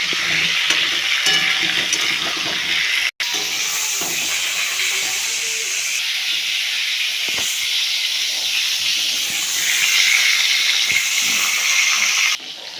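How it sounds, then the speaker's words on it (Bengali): Pointed gourds (parwal) dusted with salt and turmeric fry slowly in oil, giving a loud, close, steady hissing sizzle that runs almost unbroken, with one brief cut and a slight shift near the end. "পটলগুলি ধীরে ধীরে লাল করে ভেজে নেব।"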